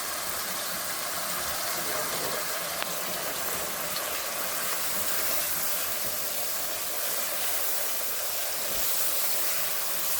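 Spice paste with paprika sizzling in a pan while frying for a pumpkin shrimp curry, a steady close hiss that holds evenly throughout with no talking.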